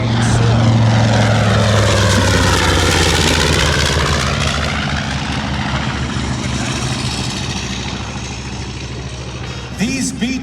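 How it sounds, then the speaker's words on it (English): A World War II B-25 Mitchell twin-engine propeller bomber roars past, loud and near, its engine pitch sweeping downward as it passes and then fading away. "From the right, here comes the B-25 Mitchell"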